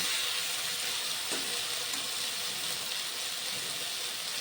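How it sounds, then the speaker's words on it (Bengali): A small splash of water hits fish frying with spices in a hot pan for a Bengali vinegar fish dom, giving a steady close hiss and sizzle with faint watery pouring throughout. "একটুখানি জল আমি অ্যাড করলাম খুব সামান্য"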